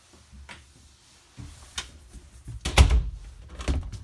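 Glass shower doors in the bathroom of a 2021 Keystone Sprinter 27ML RV are handled, giving soft clicks and taps that build to louder knocks and a rattling slide near the end.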